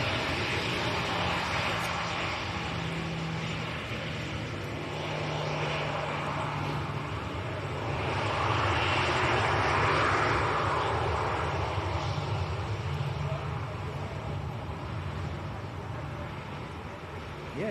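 An aircraft taxis at Leeds Bradford Airport with a continuous engine drone that swells a little midway and then eases off, heard from a moderate distance with no talk.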